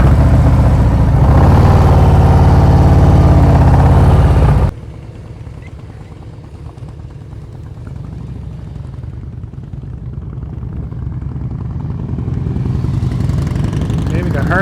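A motorcycle ridden slowly in a low-speed riding practice session gives a loud, close engine drone that drops abruptly to a quieter steady hum, then gradually builds again with throttle.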